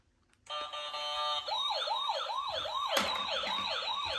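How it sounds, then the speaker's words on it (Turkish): A toy ambulance siren wails in a fast, repeating up-and-down electronic pattern, close and fairly loud, starting abruptly after a brief silence. "Şimdi ışıklı ambulans geliyor."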